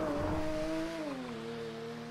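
A car engine in the GTA roleplay video game drones steadily, its pitch shifting slightly downward midway as the revs change, loud and continuous without talk.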